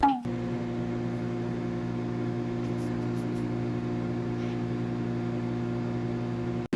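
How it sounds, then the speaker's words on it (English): A microwave oven heating curry: a steady low electric hum drones on without a break, with a faint click at the start and again at the end. "I'm just going to toss it in the microwave and let it cook."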